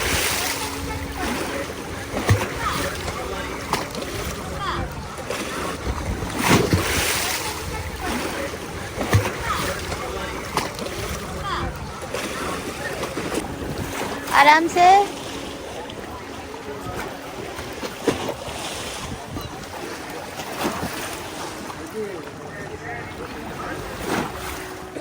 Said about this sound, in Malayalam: ഈ ബോട്ട് നിങ്ങളെ കുറച്ച് കടലിൻ്റെ അകത്തേക്ക് കൊണ്ടുപോകും, തിരിച്ചു കൊണ്ടുവരും.